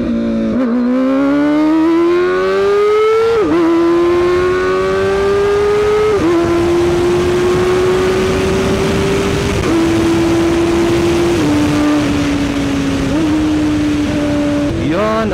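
A car engine revs hard and close, rising through the gears with several quick-shift changes, each marked by a sharp drop in pitch before the next steady climb, loud and continuous with no talk.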